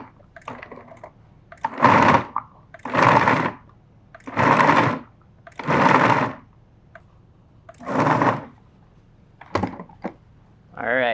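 Food processor pulsing meat for lion's head meatballs, six loud whirring bursts of about a second each separated by short pauses, followed by a brief final spin.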